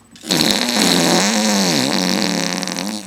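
A person vocally imitates a long, loud, buzzing fart, the so-called Cosmic Fart, with a wavering pitch that dips and rises over about three seconds.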